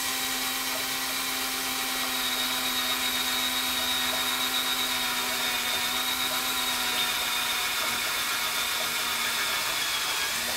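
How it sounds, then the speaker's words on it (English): Drill bit boring into soft aluminum on an Evinrude outboard motor, a steady continuous whine with a faint high tone running throughout, fairly close and alone with no talk. "It's real soft aluminum, so it drills."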